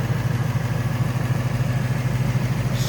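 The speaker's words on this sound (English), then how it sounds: "Smooth running engine." A 2018 Ford Mustang GT V8 idles steadily with the hood open, a close, even low rumble with a regular pulsing rhythm and no talk over it.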